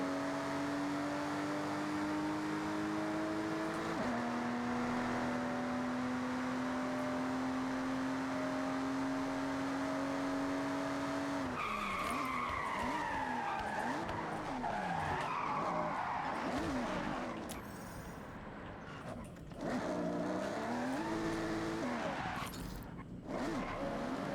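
A BMW in the racing game Forza Horizon 6 holds a steady engine drone, then revs up through rising gear sweeps with loud tire skidding and squeal, with a brief dip before the engine pulls again.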